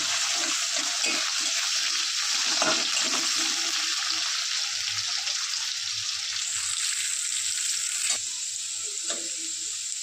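Chopped green beans fry in a pan with a steady, dense sizzle that holds loud and even throughout, with occasional stirring knocks close by.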